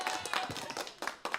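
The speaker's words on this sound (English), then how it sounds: "That's the applause." Faint applause from a small group, scattered claps arriving in uneven bursts, quiet and distant.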